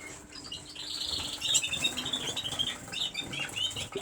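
Canaries in a winter aviary with cock and hen birds kept separate, wings fluttering in quick soft bursts alongside scattered high chirps, close and moderately loud; no talk.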